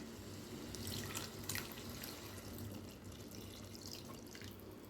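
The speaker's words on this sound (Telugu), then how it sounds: "కొంచెం వాటర్ వేసానండి." Water is poured into a pan of frying egg and prawn curry, a faint trickling and dripping splash that runs continuously at low level, ending with a small knock.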